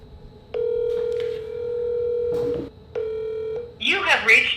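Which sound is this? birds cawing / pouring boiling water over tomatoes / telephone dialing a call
telephone dialing a call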